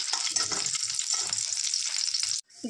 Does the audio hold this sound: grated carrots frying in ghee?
yes